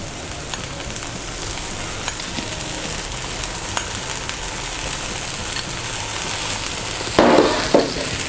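Dosa batter cooking on a hot griddle pan as oil goes on, a steady close sizzle with fine crackling, and a brief louder hiss near the end.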